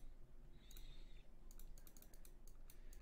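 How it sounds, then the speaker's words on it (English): Computer keyboard typing in quick, irregular bursts of clicks, a few early strokes and then a denser run of keystrokes through the second half, close and clear over a steady low background hum. "I'll just use my keyboard."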